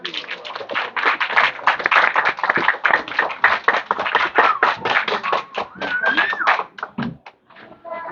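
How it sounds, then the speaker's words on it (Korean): Applause at an infant department church service welcomes a professor: distinct, close hand claps from a small group, irregular and lively, thinning out toward the end, with a few voices and a squeal mixed in. "교수님 박수로 모시도록 하겠습니다"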